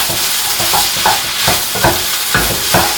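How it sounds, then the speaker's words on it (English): Beef noodles sizzle and fry loudly in a hot pan as satay peanut sauce is added, with steady stirring and scraping strokes repeating every half second or so, close up, no voices. "we're going in with our satay sauce"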